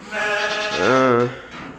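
A farm sheep gives a single loud, wavering bleat up close, rising in the middle and then fading out.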